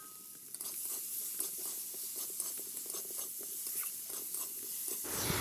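Prawns and spices (turmeric, chili powder and salt) being stir-fried in a pan for a sour amra prawn curry: soft, rhythmic scraping strokes over a quiet, constant sizzle, close but low in level.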